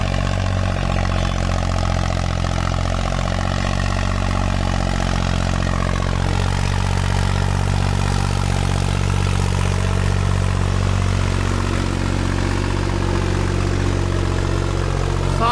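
A heavy tractor engine runs steadily throughout, a continuous low, throbbing drone with no pauses and no voices.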